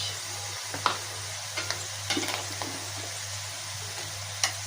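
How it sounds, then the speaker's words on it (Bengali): Prawns frying with onions, turmeric and chili in a pan for spinach curry, a steady soft sizzle with a few light clicks of stirring, close and fairly quiet, with no talking. "এখন চিংড়ি মাছ ভেজে নিলাম পেঁয়াজের মধ্যে দিয়ে, হলুদ মরিচ"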